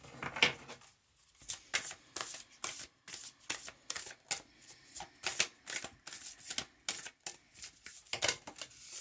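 A deck of tarot cards is shuffled repeatedly, crisp riffling bursts and soft slaps in a quick, uneven rhythm, close up and fairly quiet.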